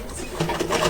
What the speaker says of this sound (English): I'll go to my sewing machine and sew it at this outer edge.